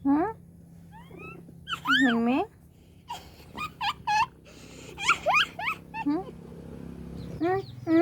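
A grown, adopted pet cat gives several rising and falling meows of varying length, close by, in a quiet home, with a person's voice mixed in between.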